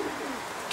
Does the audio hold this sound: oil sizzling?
no